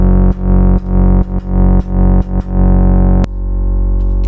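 Synth bass run through an analog sidechain compression pedal drones loudly, with its level dipping sharply each time a drum hits. About seven evenly spaced ducks are followed by one sharp hit, after which the bass sustains at a lower level.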